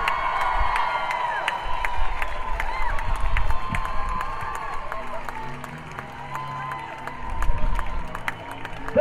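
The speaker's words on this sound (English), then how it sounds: "Big round of applause for our team." Crowd applause and cheering along the route of a Little League team parade in Petaluma, a steady dense wash of clapping and shouts with whoops rising near the end, an announcer's voice carrying over it.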